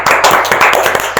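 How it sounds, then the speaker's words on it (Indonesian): Audience clapping at an Indonesian discussion forum, heard as a short burst of dense, close hand claps that carries steadily through the whole moment. "Kita tepuk tangan dulu."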